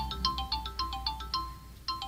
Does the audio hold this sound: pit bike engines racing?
no